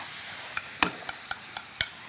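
A pot of braised saury with vinegar gives off a soft sizzle and bubble, with a handful of sharp clicks and taps from stirring or utensils at uneven intervals, and no talking.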